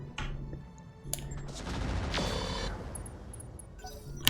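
Weapons fire aimed at a commando mech in the Roguetech game: a dense, sustained rumble of shots and impacts, with a few sharper bursts standing out near the start and end.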